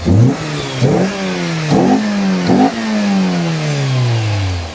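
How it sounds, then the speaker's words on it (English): A high-mileage classic Mini engine with no coolant revs four times in quick bursts, pitch climbing and dropping each time, then winds down slowly from a final rev; loud and close. "Go on, Carl, give her a few revs."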